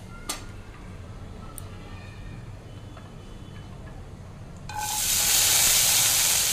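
Garlic hits hot reused oil in a pan: a faint ticking background suddenly gives way to a loud, steady sizzling hiss that continues close up for the last couple of seconds.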